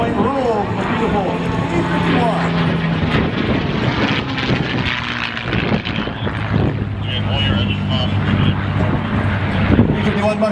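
A P-51 Mustang propeller fighter flies past, its engine drone sustained and loud across the whole pass, with a voice talking over it.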